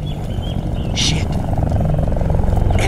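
Russian helicopters thunder through a battle in the video game Battlefield: Bad Company 2, their rotors a rhythmic, growing chop that gets louder toward the end, with a sharp burst of game noise midway.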